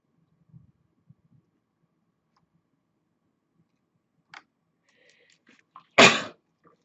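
A single sharp sneeze bursts out near the end after near silence, preceded by a few faint clicks and soft rustles.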